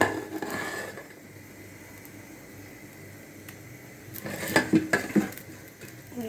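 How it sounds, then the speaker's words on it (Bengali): Boiled eggs dropped one by one into a cooking pan for an egg, potato and tomato curry, giving soft clatters and knocks of utensil on pan, with a louder cluster of clinks near the end. "এই পর্যায়ে আমি ডিমগুলোরে এক এক করে ছেড়ে দেব"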